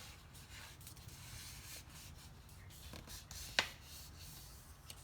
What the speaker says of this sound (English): So I just fold like half an inch,